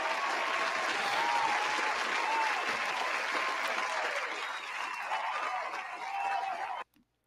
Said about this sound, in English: Definitely got to hit y'all with a round of applause